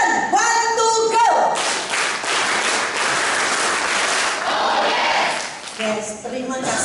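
An audience performs a rhythmic group clap at a live seminar event, dense loud claps with crowd noise filling the room, bracketed by a presenter's voice talking at the start and end.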